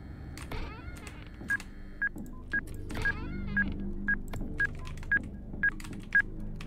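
A phone going off in a Roblox horror game: a string of evenly spaced electronic beeps about half a second apart, over low game ambience and some background sound.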